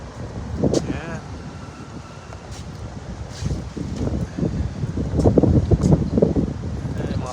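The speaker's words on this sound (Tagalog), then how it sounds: "Mahangin ngayon." Wind gusting outdoors in Hawaii, buffeting the microphone in uneven surges that strengthen toward the end, with a person talking intermittently over it.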